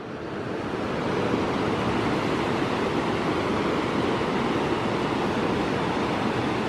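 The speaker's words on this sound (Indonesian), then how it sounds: "Nah, di sana ada air terjun juga ternyata ya." A waterfall on the Cimanuk river pours down steadily, making a loud, continuous broadband roar that swells slightly at the start and then holds even throughout, with no voices.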